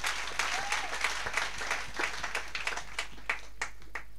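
An audience at a round table event applauds, a crowd clapping steadily then thinning out into a few sharp, spaced claps that fade away, with no voices.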